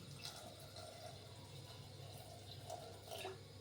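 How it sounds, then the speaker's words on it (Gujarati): Water pours steadily into a cooking pot holding peeled potato and bottle gourd pieces for sambar, a soft, continuous splashing trickle that stays faint and close throughout. "ત્યારબાદ પાણી એડ કરશું"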